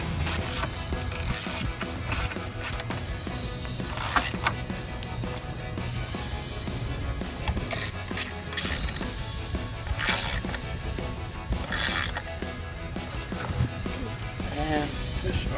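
A ratchet tightens 10mm bolts while a LED headlight is installed on a 2021-2023 Ford F-150. Quick clicking runs through the clip under steady talking, with some mechanical clatter.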